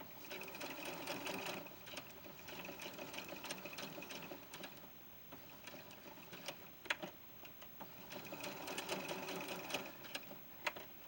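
A sewing machine runs close by, stitching two rows of basting on a doll-size blouse, a fast steady mechanical chatter with slight pauses and changes in speed, fairly quiet and without talk.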